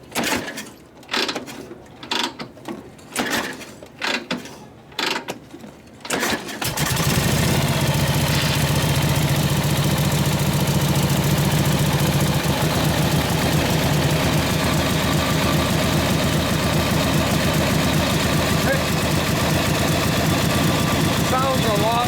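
Voices speak in short bursts, then a Harley-Davidson Panhead motorcycle engine catches after a kick start and settles into a loud, steady idle that continues unbroken.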